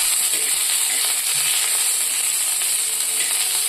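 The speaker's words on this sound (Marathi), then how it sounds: "कढीपत्त्यामध्ये थोडं पाणी होतं ना, त्याच्यामुळे ते सर्व" Loud, dense sizzling and spitting of moist curry leaves roasting in hot oil, crackling continuously up close without any talking.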